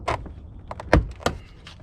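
Sharp clunks and a thud from yanking on the door panel of a 2001 Buick LeSabre to pop its retaining clips, three distinct impacts spaced about a third of a second apart, close and fairly loud, no talking.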